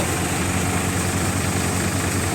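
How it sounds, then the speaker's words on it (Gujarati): A Farmtrac 45 tractor engine runs steadily at close range, a dense continuous low rumble with broadband roar and no pauses or voices over it. "આ રીતનું પરફોર્મન્સ છે ફાર્મ ટ્રેક પિસ્તાલીસ ટ્રેક્ટરનું"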